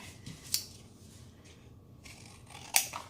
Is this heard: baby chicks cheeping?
no